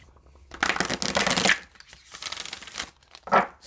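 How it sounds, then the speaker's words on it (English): A deck of oracle cards is shuffled in two brisk, crisp riffling bursts followed by a short final flutter, close and clear, with no talk over it. "Spirit says to shuffle one more time"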